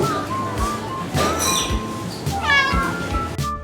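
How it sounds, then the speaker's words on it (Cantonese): Several of six cats meow at a cat cafe in Taichung around feeding time, with repeated drawn-out, rising cries close by over a busy indoor background. "係咁喺度嗌，喵喵叫。"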